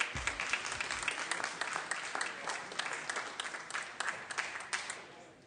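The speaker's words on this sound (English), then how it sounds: "A round of applause, please, members." Applause fills a Senate chamber during a floor session: a steady, distant-sounding wash of many hands clapping, fairly quiet, lasting several seconds.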